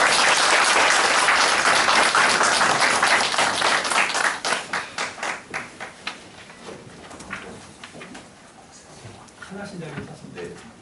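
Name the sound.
audience applause welcoming the speaker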